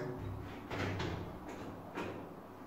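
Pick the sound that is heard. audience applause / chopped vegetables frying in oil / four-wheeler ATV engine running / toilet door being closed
toilet door being closed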